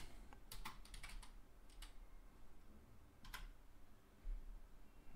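Quiet keystrokes on a computer keyboard come in short irregular bursts with brief pauses, close by at low level, while a business card gig is set up on screen.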